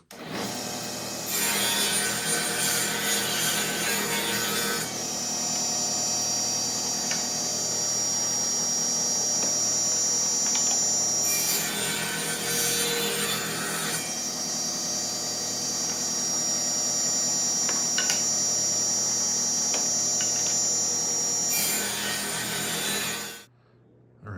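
A dado being cut and chiseled into a double-thickness plastic cutting board, with a steady, close, loud grinding and rasping tool sound that swells in several bursts, and no talk.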